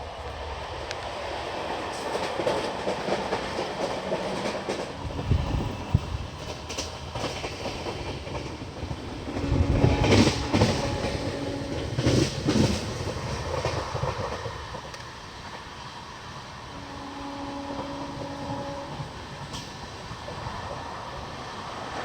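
Deekshabhoomi Express passenger train, 11045 Kolhapur–Dhanbad, running with LHB coaches: a steady rumble and clickety-clack heard from onboard, swelling louder midway, with faint squealing tones near the end.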